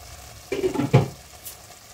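A spoon stirs prawn, bottle gourd and potato curry in a pan, two quick scraping, sizzling strokes close by, followed by a faint soft clink, otherwise quiet.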